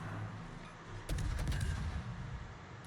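Naval guns fire from the British tier 9 premium destroyer HMS Somme in World of Warships. A sudden salvo of sharp booms hits about a second in, then sustained rumbling gunfire follows with no talking.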